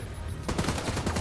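Enemy automatic gunfire rattles in The Division 2, a rapid, loud burst of shots that starts abruptly after a brief lull and continues steadily to the end.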